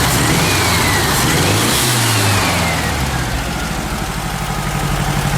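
A VW Super Beetle Volksrod engine, recently repaired, runs loud and close; it revs up and settles back early on, then holds a steady, rough, throbbing idle.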